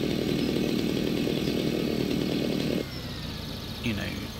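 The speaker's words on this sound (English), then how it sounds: "It's calling it a hoe, but it's a stump grinder." A stump grinder from the Farming Simulator 2013 forest mod runs in the video game with a loud, steady, chainsaw-like buzz, then drops to a quieter idle with a brief rise near the end.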